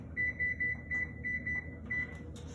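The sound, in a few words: kitchen timer being set, beeping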